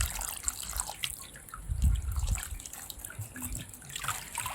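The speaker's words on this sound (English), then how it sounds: "for my water to be able to rush out from the tank" Water rushes and trickles out of a fish tank holding wolffia plants on a catfish farm, a steady splashing flow with drips and no talk.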